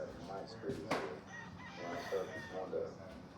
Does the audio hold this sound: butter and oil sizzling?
no